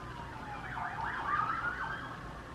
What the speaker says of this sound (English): Another siren.